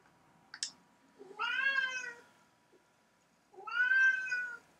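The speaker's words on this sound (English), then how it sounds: "That cat." A cat meows twice, each call a drawn-out, harmonic wail lasting well under a second, close by and fairly loud, with a short quiet gap between them and a faint click beforehand.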